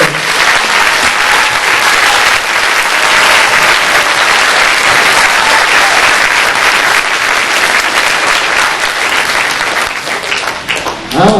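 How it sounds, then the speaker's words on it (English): Loud, sustained applause for band directors fills a concert hall at a county high school band festival, a thick wash of many hands clapping that holds steady before thinning slightly at the end. "if you give a big round of applause for the directors"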